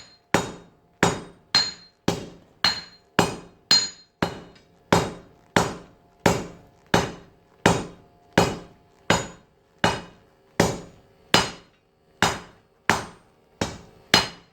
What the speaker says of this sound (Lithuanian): Paimam plaktuką ir smailinam.